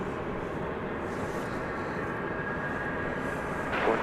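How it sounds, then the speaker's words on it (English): An Embraer 175 American Eagle airliner departs DFW Airport at night, heard as a faint, distant, steady roar with a soft rise near the end. "Well, it's an Embraer 175 American Eagle."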